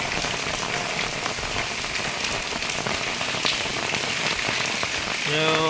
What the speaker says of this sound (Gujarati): એવો વરસાદ આવી ગયો